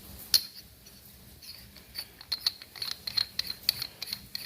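A JLT 3.0 oz driver's side oil catch can is threaded back onto its fitting, giving faint metallic ticks and ratcheting clicks that come faster toward the end, close by with no voices.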